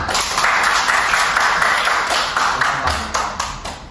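Students in a micro-teaching class on algebraic derivatives applaud a classmate with steady, close clapping that runs the full length and fades slightly near the end; no talking over it.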